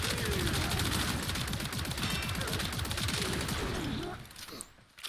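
Athodai hand cannon in Warframe firing in auto burst mode, a rapid, dense stream of loud shots for about four seconds that then cuts off, with someone talking over it.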